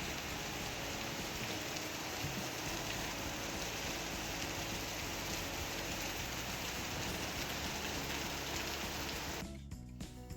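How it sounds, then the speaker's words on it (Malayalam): Heavy rain pours outside in a steady, dense hiss of drops on surfaces, constant and moderately faint, cutting off near the end with no voices. "പുറത്ത് നല്ല മഴയാണ്."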